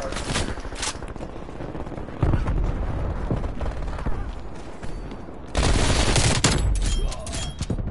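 Dense bursts of rapid automatic gunfire from a PS4 shooter game, loud and close, in two heavy barrages with quieter shooting between, while a player talks over it.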